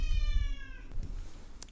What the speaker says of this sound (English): my cat kept meowing and I think she wanted some more treats